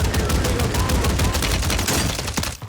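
Mortar and air strikes in the video game Warzone 3 make a dense, continuous barrage of explosions and rapid gunfire that stays loud and chaotic throughout before cutting off abruptly at the end.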